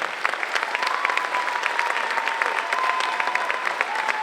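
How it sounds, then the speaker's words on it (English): A crowd at an elementary school music concert applauds steadily, many hands clapping in a sustained, even wash of sound throughout. "get all this applause"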